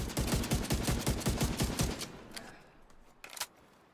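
Rapid automatic gunfire in The Division, a loud fast burst of evenly spaced shots for about two seconds, followed by quieter scattered single shots.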